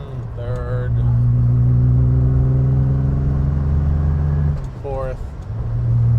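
A 1967 Aston Martin DB6 coupe engine revs up strongly through the gears, close and loud, in a long rising pull that dips briefly at a gear change before climbing again.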